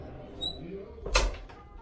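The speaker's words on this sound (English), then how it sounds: "let me close the door" A door closing indoors: one short, sharp thud about midway, preceded by faint room noise and muffled background sounds.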